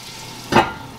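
Butter and onions fry in an enameled cast iron skillet, a short, loud surge of sizzling swelling up midway and fading into a softer crackle.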